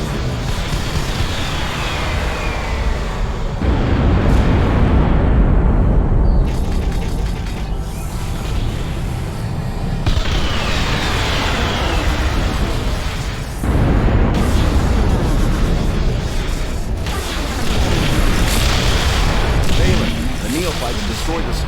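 Bombing run on a hacked Nexus in the strategy game Ashes of the Singularity, with dense, continuous rumbling explosions and heavy booming impacts building in loud waves for about twenty seconds.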